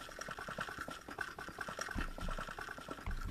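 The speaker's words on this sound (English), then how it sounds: "we can hear the sound of stone being converted around us" Minecraft Botania flower converting stone, a rapid, steady stream of crackling, bubbling ticks repeating many times a second, fairly loud and continuous with no voices.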